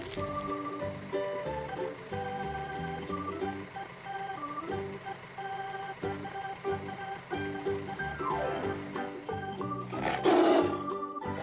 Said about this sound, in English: This animal also looks like a big cat. It is a tiger.